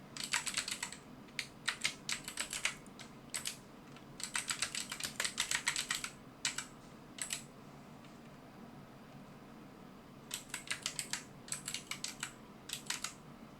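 Bursts of computer keyboard typing, quick irregular keystrokes in several clusters separated by pauses, close and fairly quiet over a low room hum.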